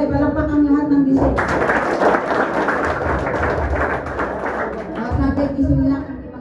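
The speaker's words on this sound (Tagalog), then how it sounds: "Okay, palakpak ang lahat ng ising." Clapping from a seminar audience in the Philippines, a dense patter of many hands rising suddenly and holding steady for several seconds, with a speaker's voice before and after.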